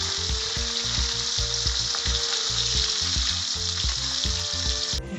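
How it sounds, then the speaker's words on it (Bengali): Fish fried in hot oil give a loud, continuous crackling sizzle close by. It stays steady throughout with a low hum underneath and no talking. "অর্ধেক মাছকে আমরা তেলের মধ্যে ছেড়ে দিলাম।"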